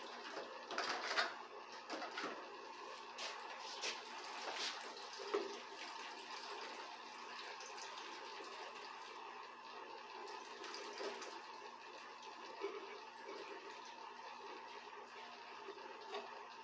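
Water draining through a small hose from a 600-litre aquarium, a faint continuous trickle and gurgle with a few brief splashy bursts early on, heard alone in a quiet room.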